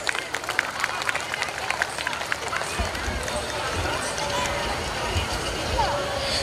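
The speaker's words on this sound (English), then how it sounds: "A big round of applause, dear audience." An audience at a school annual prize distribution claps, a dense continuous patter of applause with background crowd murmur, steady throughout and moderately loud.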